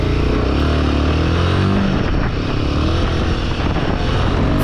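A Royal Enfield Himalayan motorcycle engine drones steadily and loudly while riding, a continuous close engine rumble mixed with wind, with no talking.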